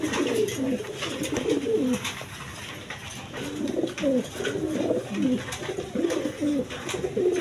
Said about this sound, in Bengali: একদম বিগ সাইজের কবুতর দেখেন দেখার মতো কবুতর